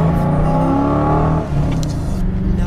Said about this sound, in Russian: Это гоночный автомобиль.